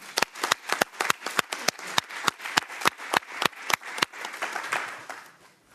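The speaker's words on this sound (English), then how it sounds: "That deserves a round of applause." A sparse round of clapping at a school board meeting, with sharp distinct claps in a quick irregular rhythm from a small audience, thinning out and fading toward the end.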